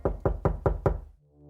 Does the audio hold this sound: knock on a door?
yes